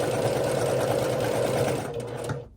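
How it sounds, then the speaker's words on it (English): A domestic sewing machine stitches nested herringbone quilt pieces in a steady, fast mechanical whir, loud and close, running continuously before slowing and stopping near the end. "I can just slide that right into my machine and sew right down"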